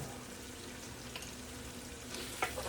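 Sliced onions with a pinch of salt softening in a pan on the stove give a soft, steady sizzle, faint and continuous, with a few light clicks near the end.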